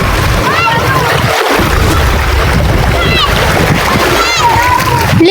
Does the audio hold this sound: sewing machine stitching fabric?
no